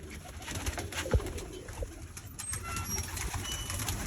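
Pigeons coo softly in low, rounded calls against a faint background hum, with an occasional rustle of movement nearby.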